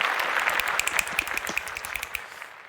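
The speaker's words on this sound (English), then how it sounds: "Claps for Richard." A small online group gives a round of applause, a quick burst of overlapping claps that rises, holds briefly and thins out to silence within a few seconds.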